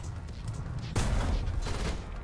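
A tank cannon fires in War Thunder with a Puma–Marder hybrid German vehicle, one heavy blast landing about a second in and rumbling on over low background noise.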